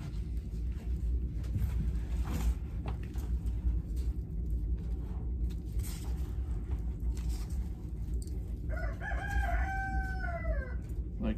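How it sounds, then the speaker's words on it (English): A rooster crows once near the end, a clear multi-note call cutting through a constant low hum and rumble of indoor work noise, fairly close and moderately loud. "I might have to go run my rooster out of here."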